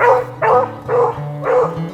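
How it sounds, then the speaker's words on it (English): A lone beagle barks during a snowy rabbit hunt, giving four clear, evenly spaced barks in a steady rhythm with no voices over it. "In the distance, the sound of a lone beagle."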